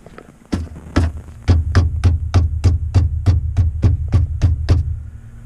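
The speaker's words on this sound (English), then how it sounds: "There's definitely a rattle in this area" A loose rattle inside a Nissan 370z cabin, heard as a fast, steady run of sharp clicks about three per second over a constant low electrical hum, close and fairly loud.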